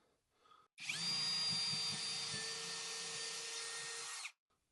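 A Greenworks 24V cordless drill whirs at a steady high pitch for about three and a half seconds, starting and stopping abruptly, close by.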